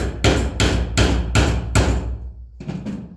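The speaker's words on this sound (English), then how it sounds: "take a couple hammers to it to get the nail to go through this piece into" A hammer drives a nail through wood while building a DIY hanging planter, striking five loud, close blows at a steady beat, then a short pause before a quicker, lighter cluster of taps.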